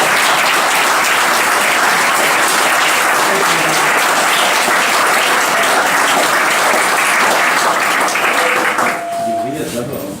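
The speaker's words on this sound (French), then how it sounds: "On va applaudir." An audience at a conference applauds in a loud, sustained round of clapping that fades near the end, with some voices mixed in.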